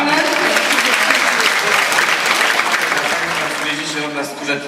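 A hall audience at a 2013 charity concert in Lidzbark breaks into loud, sustained applause after an auction item is sold, a dense wash of clapping that slowly thins toward the end.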